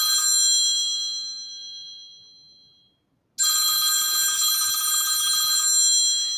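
A telephone rings with a bright electronic ringtone, loud and close, fading out, falling silent briefly, then starting again at full volume for several more seconds.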